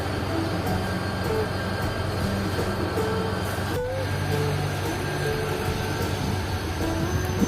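A train rumbles steadily at Bin Qasim railway station near Karachi, a continuous loud rolling drone with faint squeals and a brief clank partway through.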